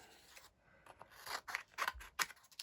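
Scissors snip through a folded piece of card for a Halloween craft, a series of quick, close, crisp cuts in an otherwise quiet room.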